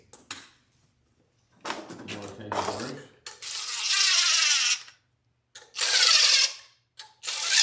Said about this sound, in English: So I'm going to do what everyone tells you not to do and just zap these down with this impact gun for a second.